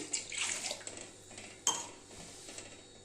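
A second tumbler of water poured into ragi flour in a bowl, a short splash with clinks of metal utensils and dishes, close and fairly quiet.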